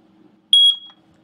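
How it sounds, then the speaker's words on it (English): A smoke detector being tested after a battery is fitted gives a single short, shrill high-pitched beep, close and loud against a quiet room. "We'll put the battery in, test it."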